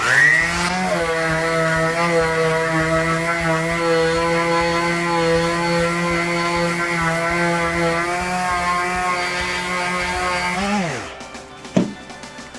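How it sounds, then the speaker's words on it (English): A power sander works a wooden bowtie inlay in a stair tread, a loud steady motor whine with strong harmonic buzz running continuously for about eleven seconds before spinning down, followed by a couple of brief knocks. "now we're gonna quickly get a sand on it"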